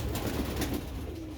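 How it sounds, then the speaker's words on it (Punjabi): Sialkoti Ali wale pigeons coo softly and close in a brief, low, throaty murmur. "ਸਿਆਲਕੋਟੀ ਅਲੀ ਵਾਲੇ ਕਬੂਤਰ ਮਾਸ਼ਾਅੱਲਾ"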